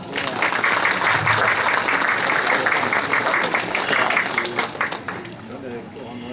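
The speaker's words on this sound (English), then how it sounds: "Can we give this amazing man a round of applause?" A crowd at a senator's campaign kickoff event breaks into a dense, sustained round of applause that holds loud for about five seconds, then thins toward the end, with cheering voices mixed in.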